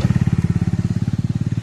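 Motorcycle engine close by, a new bike carrying two riders on the road, putting out a loud, steady rhythmic thrum with evenly spaced pulses and no voices.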